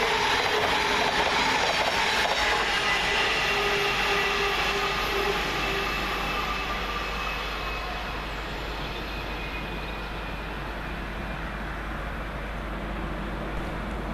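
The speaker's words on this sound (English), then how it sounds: "Whilst passing on the slow line is 700-031, working 2 Charlie 28 for Govia Thameslink from London King's Cross to Cambridge." A Govia Thameslink class 700 electric train passes on the slow line at Welham Green station, a loud, close rushing roar with a faint whine that gradually eases as the train moves on.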